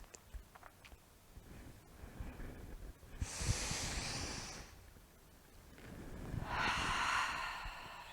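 Two slow, soft breaths close to the microphone during a yoga twist, each a breathy rush lasting over a second, separated by a quiet pause, with faint background rustle and no speech.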